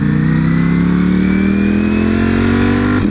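Loud, steady rush of car traffic close by, with engines rising in pitch as vehicles accelerate past on the road, a school bus among them, continuous with no talk.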